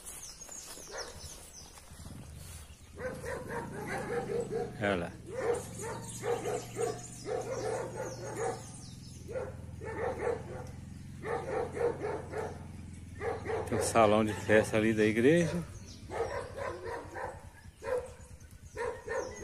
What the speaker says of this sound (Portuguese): Uma cachorrada barulhenta.